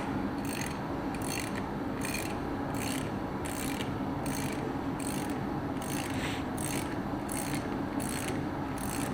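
A ratchet wrench turning a 1/2-inch square drive runs the nut on a New Holland 9482 tractor wheel seal, giving steady repeated clicking strokes, close and fairly loud over continuous background noise, with no talk.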